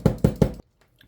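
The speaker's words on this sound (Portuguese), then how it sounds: "Dá umas batidinhas para colar bem" Three light taps on leather bag pieces to press glued layers together, evenly spaced about a fifth of a second apart, close and crisp, followed by near silence.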